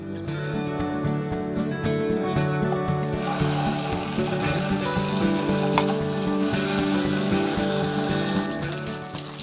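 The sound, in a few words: tofu frying in hot oil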